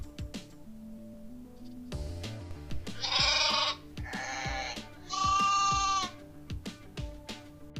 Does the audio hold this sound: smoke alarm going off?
no